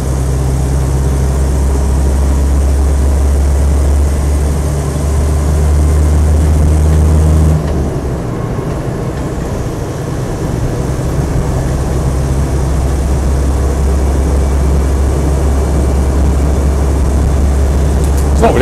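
A Land Rover 90 hardtop with a 2.5 diesel engine cruising steadily at about 60, a loud continuous low drone with a slight shift in pitch partway through, no talking.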